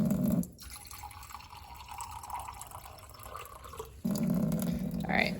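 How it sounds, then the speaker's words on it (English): Water pouring out and then trickling down through soil after 100 milliliters are poured in for a water cycle demonstration, a soft steady flow between two louder bursts of pouring at the start and end, with no voices. "We can see that it's already dripping through."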